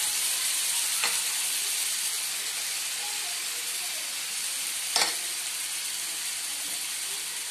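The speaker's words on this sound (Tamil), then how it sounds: "இதே மாதிரி ஒரு 8-10 மினிட்ஸ் ஃப்ரை ஆகட்டும் ஒன் சைடில்" Marinated chicken pieces frying in a nonstick pan, a continuous close sizzling hiss with a couple of sharp clinks from a utensil, no voices.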